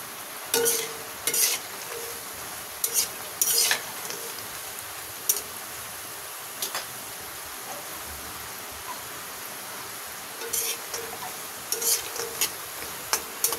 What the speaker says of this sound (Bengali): নিমকিটা চুলার লো হিটে ভাজতে হবে।